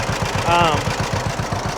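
A John Deere B model tractor idles after a cold start, its old two-cylinder engine beating out a steady, even low-pitched rhythm up close, with a brief higher whine rising over it partway through.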